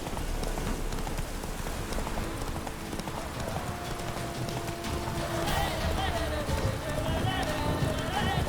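Roach, the horse in The Witcher 3, gallops in a steady, continuous clip-clop of hooves over a busy game soundscape with rain-like hiss, with a voice talking over it.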